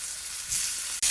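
Lamb chops searing in a hot pan give a steady, close sizzle that swells briefly, drops to a split-second gap, then returns at full strength.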